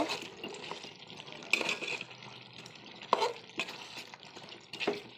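Potatoes tipped into a pot of beef curry and stirred, giving quiet frying sizzle broken by several sharp scrapes and knocks of a spoon against the pot, close up, with no talking.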